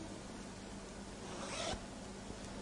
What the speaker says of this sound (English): Now, what I'll do now will be to zip it up completely.